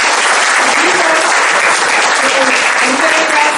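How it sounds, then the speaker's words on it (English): Seminar audience at a college of management applauds loudly and steadily, dense clapping close and continuous throughout with a few faint voices mixed in. "So I want everyone to give him a huge round of applause."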